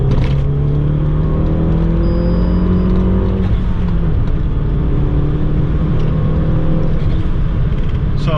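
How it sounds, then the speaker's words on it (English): A modified Fiat 500 Abarth with a 1.4 turbo and a big turbo pulls hard in third gear to just under 4,000 RPM. The engine note is loud, steady and rising, recorded from inside the car. "we're in third gear, so I'm just gonna do a little rip so you guys can see how it pulls"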